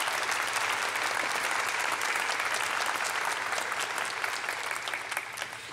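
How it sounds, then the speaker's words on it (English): Sustained applause from a convocation audience at a university ceremony, a dense, steady wash of many hands clapping at full strength, easing slightly toward the end. "let's hear a big round of applause for Matthew Room, Liam Kovic, Genevieve Wals"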